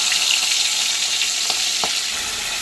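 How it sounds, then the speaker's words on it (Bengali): Marinated meat for biryani frying in hot oil left from browning onions, a dense continuous sizzle with a couple of brief clinks from stirring, close and loud, without talk. "এবার আমি ওই তেলে দিয়ে দেবো ম্যারিনেট করে রাখা মাংস"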